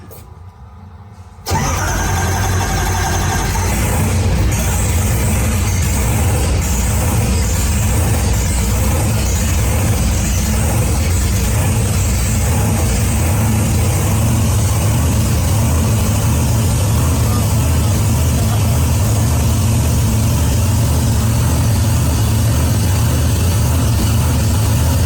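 A car engine called Blasphemi fires up on a dyno after a brief quiet moment, then settles into a loud, steady running rumble that holds for over twenty seconds.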